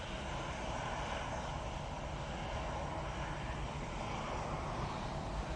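A Helvetic Embraer E2 jet heading back to Zurich at Manchester Airport makes a continuous broadband engine roar at moderate distance, even and unbroken, with no one talking.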